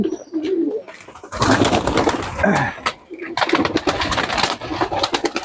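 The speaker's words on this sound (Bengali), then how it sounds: "এই যে দেখেন কবুতরগুলা মার্শাল্লাহ" Pigeons coo in low, throaty rolls on a rooftop, several birds overlapping nearby, with faint rustling and a brief murmur of voices in the background.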